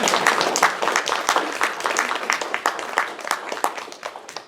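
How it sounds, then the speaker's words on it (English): A small audience applauds after a story reading, giving dense, moderately loud clapping that thins out gradually over several seconds. "You can clap."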